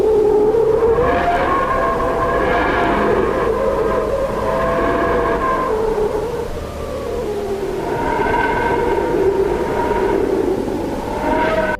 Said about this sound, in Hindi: ये ऑडियो सूर्य के थोड़ा और करीब जाकर वहाँ पर गैसों में आने वाले परिवर्तन से रिकॉर्ड की गई है